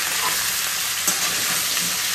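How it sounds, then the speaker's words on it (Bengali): Potato and onion frying together in a pan give a steady, loud broadband sizzle throughout, with one brief scrape or stir near the middle and no talking. "আলুটা আর পেঁয়াজটা একসাথেই দিয়ে দিলাম, এবার একসাথেই এটা ভাজবো।"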